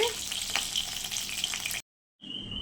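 Chital fish frying in oil gives a close, crackling sizzle that cuts out briefly to silence, then returns with a thin high hiss.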